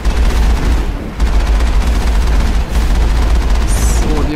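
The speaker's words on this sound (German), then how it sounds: "Wir müssen es halt mit dem Geschütz machen. Also mit der Bordkanone." Onboard cannon of a vehicle firing in the Mass Effect video game on Therum, a dense, continuous rapid barrage of booming shots lasting several seconds, loud and close, with brief breaks.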